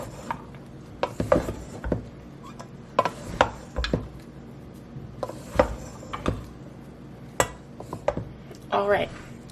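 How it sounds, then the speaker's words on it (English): A crockpot stuffing mixture stirred in a bowl, giving repeated close scraping and knocking strokes at an irregular pace, with soft rubbing in between. "One last stir."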